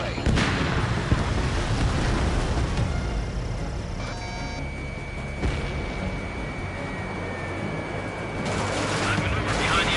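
In the Ace Combat video game, a missile launch and explosions make a continuous loud roar of blasts and rumbling, with a steady warning tone sounding for a stretch partway through.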